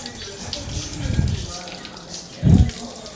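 Water runs and splashes while a guppy farm area is being washed, with two heavier gushing bursts standing out over a steady background flow.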